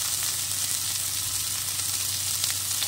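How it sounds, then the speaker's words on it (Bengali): Sliced star fruit fries in oil in a pan, giving a steady, loud, even sizzle that continues without a break. "4 থেকে 5 মিনিট ভেজে নিতে হবে, তাহলে কিন্তু এই ফলটার মধ্যে অনেক জল থাকে, সেই জলটা বেরিয়ে যাবে।"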